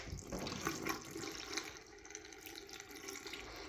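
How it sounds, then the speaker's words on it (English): A water tap in a house runs with low pressure, a steady faint splash and trickle into a sink that continues without a break. "You can constantly hear the water going as well. And just the water being turned on."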